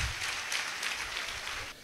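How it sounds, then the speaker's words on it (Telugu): Audience applause at a church testimony service, a steady dense wash of clapping lasting nearly two seconds and fading slightly at the end, with no voices over it. "గట్టిగా చప్పట్లు కొట్టండి"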